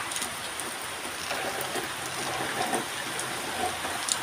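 Steady, even hiss of rain falling over Philippine farmland across the whole stretch, a dense wash of drops on surfaces with no voices.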